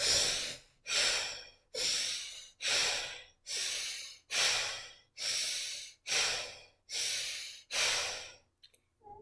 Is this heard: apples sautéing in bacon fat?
no